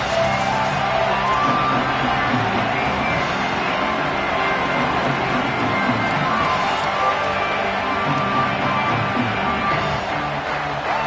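A football stadium crowd roars steadily at kickoff of Oregon Ducks season opener, a dense, loud, continuous wash of cheering and whoops with no lull.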